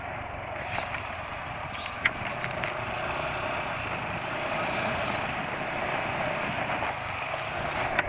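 Motorcycle engine idling after an oil change to Motul GP Matic 10W40, giving a steady, even, rumbling drone throughout with a couple of faint ticks.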